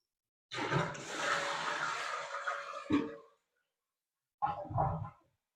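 A household toilet flushes, with water rushing out of the tank into the bowl in a loud, sustained gush lasting a few seconds, a brief gurgle, then after a pause a short second burst of draining and refilling water.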